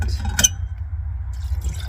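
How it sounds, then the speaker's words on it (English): Water is poured into a cooking pot at a car campsite, a short splashing fill with a bright clink near the start, close and alone over a low steady background hum. "Put water on top of it."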